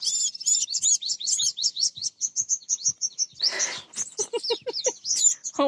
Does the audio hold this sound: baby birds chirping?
yes